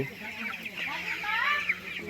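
Chickens on a poultry farm, birds about nineteen days old, give soft continuous clucks and peeping calls that rise and overlap throughout, a steady close chorus with no speech.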